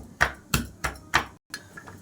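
Garlic cloves crushed with repeated blows while cooking spinach rice, four sharp, close thuds at a steady rhythm followed by softer knocks.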